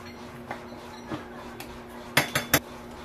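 A metal cooking pot is handled in a Filipino home kitchen while sinigang na pata is being made. Scattered soft knocks lead to a quick cluster of three sharp metallic clanks near the end.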